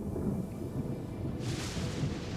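Thunder in Genshin Impact rolls as a faint, low, continuous rumble with a hissing crackle swelling partway through. It sounds distant and quiet, with no voices.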